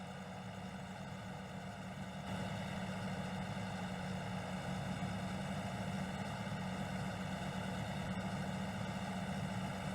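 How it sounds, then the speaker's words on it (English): Constant droning lawn mower engine hum with steady mechanical whine, stepping up slightly in loudness partway through and holding at higher revs. "Get the mower turned on. I can hear the revs are coming up."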